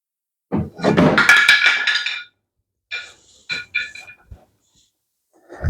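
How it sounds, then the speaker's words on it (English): A 1-inch woodworking gouge drops onto the floor with a sharp close thunk and a rattling clatter, then a few smaller knocks and clinks as it settles before the room falls quiet. "Just drop my 1-inch gouge in the floor"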